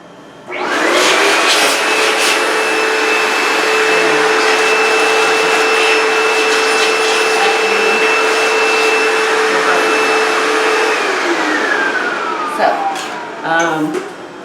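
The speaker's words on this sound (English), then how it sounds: "But simply vacuum it up." A backpack vacuum cleaner runs loud and steady with a high whine for over ten seconds, then powers down with a falling pitch and a few clunks.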